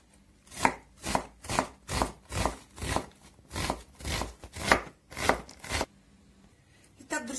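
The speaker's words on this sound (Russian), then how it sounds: "И сейчас я нарежу лук и приступим к обжарке" A knife chops through onion on a board in about a dozen steady, evenly spaced strokes, close and clear, with no talking.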